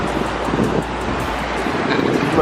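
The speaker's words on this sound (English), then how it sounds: "It's pretty windy." Wind gusting beside a river among old trees, a steady broadband rush buffeting the microphone with low rumble, continuous and fairly loud.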